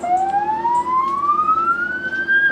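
An ambulance siren wails with a steadily rising tone during a driver training run through traffic, prominent over background road noise.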